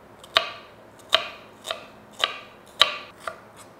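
A knife thinly slicing an onion on a cutting board gives six crisp, evenly spaced chops, close and clear with no other sound.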